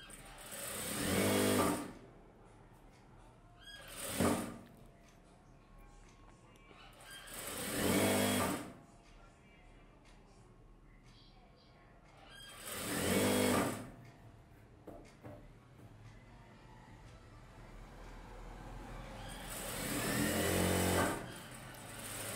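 A sewing machine stitches blouse lining in five separate short bursts of rapid whirring, each a second or two long, set apart by quiet handling gaps, close and moderately loud.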